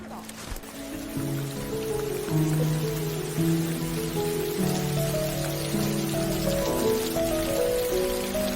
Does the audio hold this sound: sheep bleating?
no